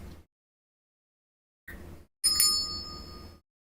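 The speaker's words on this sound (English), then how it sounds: "the bell, just to help you clear your mind" A small bell rung to clear the mind before a tarot reading: a single bright ding with long ringing overtones that fades slowly, heard close and alone after a brief softer tap.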